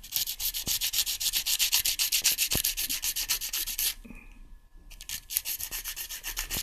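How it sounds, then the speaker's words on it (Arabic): Rhythmic back-and-forth strokes of worn fine sandpaper scrubbing carbon off a metal key, close and steady, with a brief pause partway through before the rasping resumes. "دي صنفرة مستعملة عشان تبقى ناعمة"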